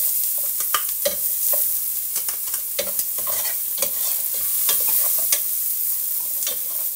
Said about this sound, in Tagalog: Igisa muna natin ito lahat.